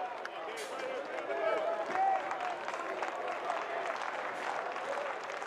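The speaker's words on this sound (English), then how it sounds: "The Hurricane crowd supportive of the junior ace" At a Clemson–Miami college baseball game, the Hurricane home crowd applauds and cheers the junior ace pitcher, a faint, distant wash of clapping and murmur under a commentator's voice.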